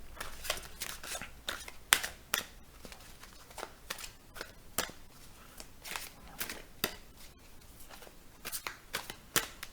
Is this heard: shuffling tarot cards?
yes